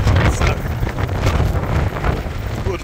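A strong gale on the lakeshore at Brunnen, Switzerland, roars across the microphone in loud, continuous, close buffeting gusts that never let up.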